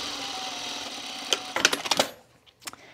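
A sewing machine stitches pajama bottoms with a steady close whirring run, then stops into a few short clicking bursts and taps before going quiet, with one more brief click near the end.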